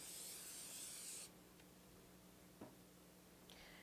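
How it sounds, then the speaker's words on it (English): A short burst of cooking spray onto a semi-hot pan, a close, steady hiss lasting about a second before cutting off, followed by faint kitchen ticks. "Pan spray once again."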